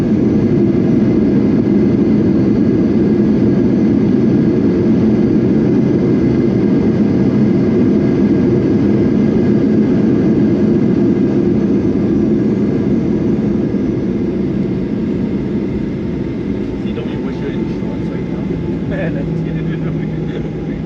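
Loud, steady engine roar with rushing noise heard from inside the cabin of a Boeing 737-800 airliner on its takeoff run, holding for about twenty seconds and easing slightly toward the end.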